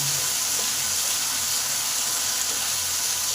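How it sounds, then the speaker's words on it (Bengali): Drained taro pieces fry in a pan over medium heat for a vegetarian masala taro dish, giving a steady, even hiss of sizzling oil throughout with no talking. "জল ঝরানো কচুটাকে এবার প্যানেতে যোগ করলাম এবার এটাকে ভালো করে মিডিয়াম হিটে ভেজে নেব"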